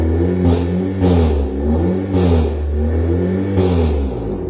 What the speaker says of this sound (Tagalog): Gusto nyo ba marinig yung tunog ng tambucho?